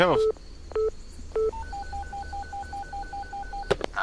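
A mobile phone in the video game Lost Luminosity sounds its dialing tones: a few separate beeps, then a rapid even run of alternating keypad tones, loud and clear, ending in a brief burst of noise.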